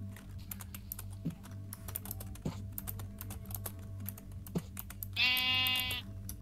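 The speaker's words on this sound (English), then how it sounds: "Let's go type in chat for him." Rapid light keypresses clatter on a computer keyboard nearby, typing steadily through the clip, with a brief bleating sheep sound near the end.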